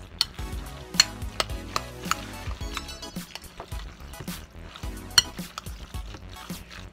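Paprika being stirred into food frying in a pan, with scraping stir strokes and spoon knocks over a steady low sizzle, close and moderately quiet, no talking.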